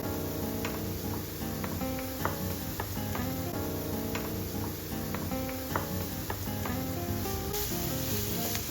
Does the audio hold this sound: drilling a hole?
no